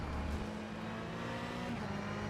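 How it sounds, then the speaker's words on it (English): Race car engines in the rFactor 2 racing game, including a Corvette and a Porsche, roar steadily alongside one another, a dense, close mechanical drone with rising and falling revs, no voices. "that Corvette and Porsche sounds so nice right next to me"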